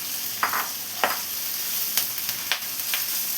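Drumstick leaves being mixed into dal curry frying in a pan, a steady sizzle under a handful of distinct spatula scrapes spaced roughly half a second apart, close by with no talking.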